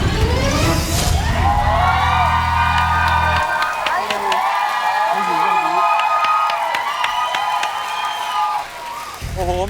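A television game show audience screams and cheers loudly, with high-pitched shrieks rising over a noisy crowd.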